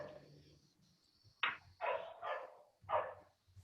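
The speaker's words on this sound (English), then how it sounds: "There is a very healthy dog somewhere there." Dog barking somewhere nearby, four sharp barks in an uneven burst, the first alone and then three in quick succession, fairly faint against a quiet room with a steady high hum.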